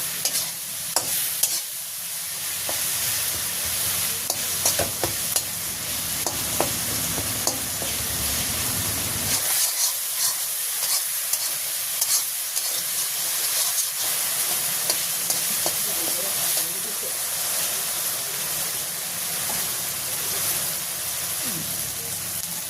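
Ground coriander and cumin sizzling loudly in a hot pan in a village kitchen, with a continuous hiss and frequent scraping stirs up close; the frying quiets a little partway through.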